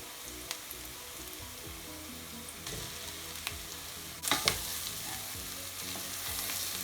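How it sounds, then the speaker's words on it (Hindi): Onions frying in a pan for a coconut lamb curry, a low steady sizzle broken by occasional scrapes and stirs, turning louder and brighter near the end as the spoon works the pan. "प्याज ऐड करने के बाद आप इसको फ्राई कर लें।"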